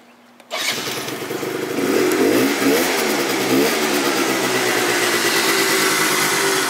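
A Yamaha Zuma scooter fitted with a Polini 70cc kit and a Yasuni R pipe fires up with a sharp start, then revs and settles into a loud, steady, buzzing engine note close by. No voices are heard.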